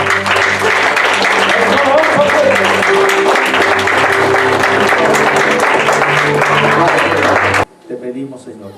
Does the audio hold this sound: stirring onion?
no